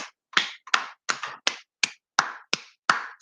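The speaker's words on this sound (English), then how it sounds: "she is just showing her defiance to Trump with this sarcastic clap" A person claps sarcastically, giving about nine slow, crisp, evenly spaced claps with short silences between them, close and fairly quiet.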